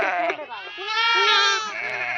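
A ewe with her two newborn lambs bleats nearby, one long, loud wavering call after a shorter bleat, with light background voices.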